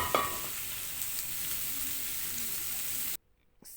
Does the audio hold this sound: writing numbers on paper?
no